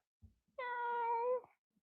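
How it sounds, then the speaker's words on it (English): A cat gives a single clear, drawn-out meow lasting under a second, fairly faint and alone against near silence. "Was that a cat?"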